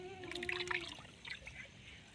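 Tick spray medicine for goats being stirred and mixed into water, giving faint close trickling and splashing sounds in short bursts, with a voice speaking over it.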